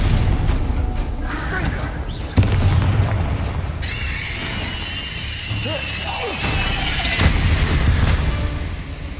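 Booming blasts and crackling spell effects from Hogwarts Legacy combat, a sharp hit near the start followed by rumbling impacts and a shimmering high whine, loud and continuous with a voice calling out between them.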